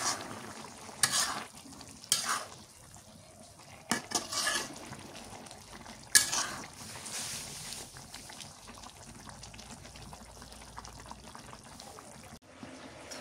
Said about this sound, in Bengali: থরের তরকারি রান্না হয়ে গেছে